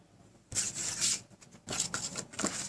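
Scissors or a blade cutting through folded card stock for a handmade Christmas card, heard as close, dry rasping strokes in two bursts with a brief pause between them.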